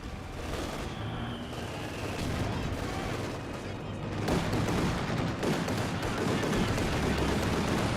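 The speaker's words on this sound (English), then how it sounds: "Those strafing runs are not nearly as effective as they ought to be." Sustained strafing-run gunfire in Company of Heroes 2, a dense rumbling barrage that grows heavier after a few seconds, with a voice talking underneath.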